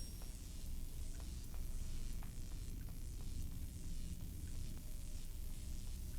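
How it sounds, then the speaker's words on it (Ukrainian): A steady electric hum with crackling static from a video game, Granny: Chapter Two, continuous and fairly loud throughout, with no voices. "Це є звук електрики,"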